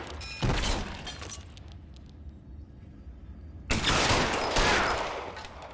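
Gunshots in L.A. Noire during a shootout in the catacombs: a loud burst of shots near the start, a quieter lull, then a second heavy volley of booming fire with a sharp, shattering edge.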